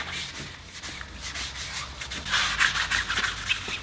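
Steady back-and-forth sanding strokes scrape across a Porsche GT3 RS body panel coated with guide coat, close and rhythmic, with a brisker, louder run of strokes toward the end.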